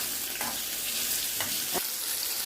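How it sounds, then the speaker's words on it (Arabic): Peppers fry in a single spoonful of oil in a pan after eggplant and potatoes for a moussaka, giving a constant close hissing sizzle broken by a few brief stirring scrapes. "بقلي الفلفل اهو"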